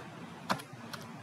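Computer keyboard typing: two quick, close key clicks a short interval apart against a quiet background.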